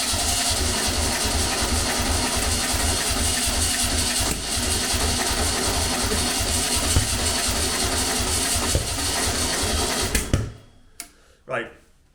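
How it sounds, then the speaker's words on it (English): An abandoned VW Beetle engine cranks over steadily for about ten seconds with a fast, even mechanical rhythm, loud and close, then stops abruptly, leaving a few faint clunks. "Let's turn it on and see if it'll spin over or crank over now."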